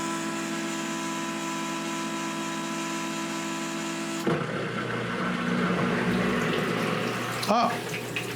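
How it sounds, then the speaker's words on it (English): Countertop dishwasher running with a steady mechanical hum and tonal whine, then switching to a splashing, spraying water sound as it leaks, with a sharp knock near the end. "in the back there's just some water coming out, going up into the air, and then just pooling down at the bottom"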